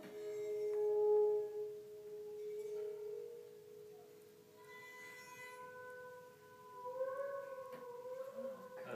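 A waterphone played with long, eerie sustained tones that waver and howl, echoing softly and moderately quiet, with no other sounds.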